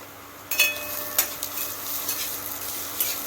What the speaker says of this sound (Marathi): आता आपण लसूण पण ह्याच्यात टाकून घ्यायचा, भाजाय जरा.